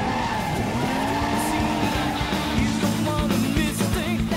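Continuous screech of tires as a D1 drift car slides in the PS2 racing game D1 Grand Prix, layered over steady high-revving engine drone with shifting pitches, loud and unbroken throughout.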